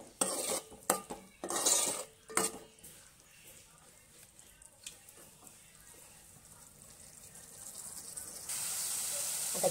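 A ripe tomato cooks down in a thick turmeric-spiced gravy, with a few close utensil clinks and stirring scrapes at first, then a soft, steady simmering hiss that grows slightly louder toward the end.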